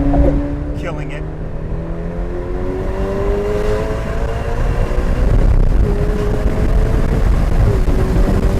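A Ferrari Portofino engine pulls steadily in third gear, manual mode, at partial throttle, with rising harmonic tones, growing louder over several seconds as it accelerates, with road and wind noise underneath.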